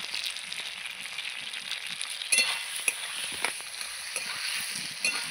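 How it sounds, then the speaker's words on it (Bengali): Spice paste fries with drumstick pieces and potato chunks in a pan, a moderate steady sizzle with a louder burst midway and repeated spatula scrapes and light clinks as the vegetables are turned, no speech. "এই যে আমি মশলাটা ভালো করে সবজির সঙ্গে কষিয়ে নিয়েছি।"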